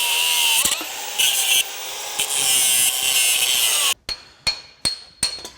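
A power cutting tool grinds through the bolt side of a large metal pin, a loud continuous whine broken by brief dips, then several short sharp bursts as it finishes, close up, with no speech.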